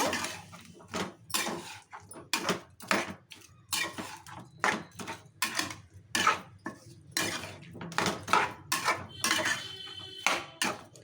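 A spoon scrapes and clinks rhythmically against a pan while potato and fenugreek leaf curry is mixed, the strokes repeating steadily and close up with no talk.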